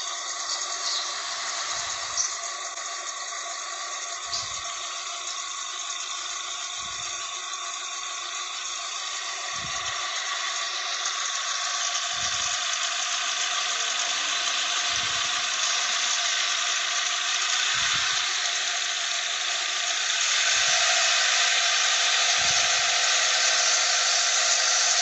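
A car engine with a compression leak runs steadily, a dense mechanical hum with a whine on top, while soft bubbling thumps from the radiator recur about every two and a half seconds. No voices.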